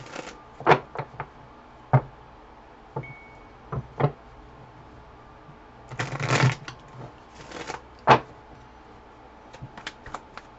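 A Moonology oracle card deck being shuffled by hand, with short crisp riffles and rustling bursts repeating irregularly, near and clear over a quiet room, no talking.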